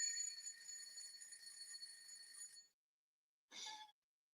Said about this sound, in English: Oh, but that's just the alarm.